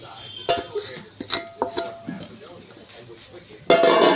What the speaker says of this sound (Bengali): এখন হাঁড়িটা চুলে উঠিয়ে দেব আমরা